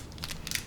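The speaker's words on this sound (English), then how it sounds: "I'm using these little pieces of aluminum foil that I folded up" Small folded pieces of aluminum foil handled close by, giving a brief crinkly crunching rustle in two quick bursts, with no talking.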